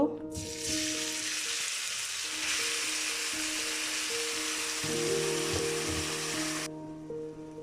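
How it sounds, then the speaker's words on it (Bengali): Onion drops into hot oil in a frying pan and bursts into a loud, steady sizzle that lasts several seconds before abruptly dying down near the end. "ফ্রাই প্যানে আমি অয়েল দিয়ে দিছি প্রথমে আমি পেঁয়াজটা দিয়ে দিব"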